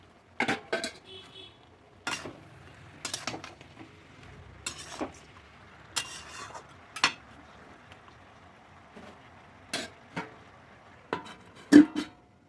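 Fish heads going into a pan of softened cabbage, with scattered metal spoon-on-pan clinks and scrapes, about a dozen sharp knocks spread unevenly over a quiet kitchen background.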